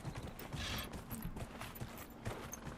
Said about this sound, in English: Why does this like horse shake its ass so hard when you walk?